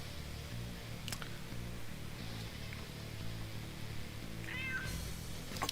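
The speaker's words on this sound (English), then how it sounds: "That is the channel mascot, my cat Deuce." A pet cat gives a single clear meow near the end, heard over a steady, busy bed of background music or game sound during a live stream.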